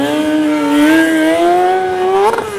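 Stunt motorcycle engine holding a steady high-pitched whine that slowly rises in pitch, loud and close, then a brief rev blip and sharp transient near the end, with no talking.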